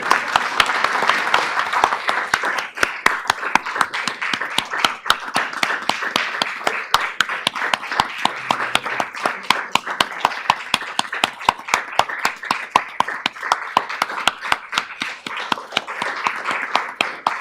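Board meeting attendees clapping in approval after a motion, a steady crowd applause of many hands sustained evenly throughout, fairly close, with faint murmuring beneath.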